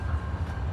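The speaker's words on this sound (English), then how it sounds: "You realize that there should be another train coming the other way soon." A passing train gives a low, steady rumble with a faint tonal hum on top, brief and moderately loud, with no clear wheel clatter.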